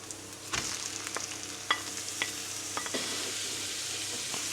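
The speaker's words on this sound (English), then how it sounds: "First, let's add the ground beef." Ground beef fries in a pan, a steady close sizzle broken by repeated sharp scrapes and clicks as it is stirred and pushed around every half second or so.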